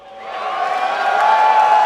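A crowd at a tournament match cheers and whoops continuously, the noise swelling steadily louder over a couple of seconds with no clear talking.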